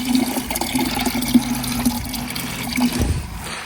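Pool water pours steadily into a plastic bag holding fish for acclimation beside a backyard pool pond, a continuous close splashing trickle that runs throughout with no voices.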